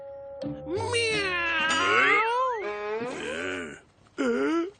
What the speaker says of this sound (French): Il a fait miaou. Alors c'est un chat.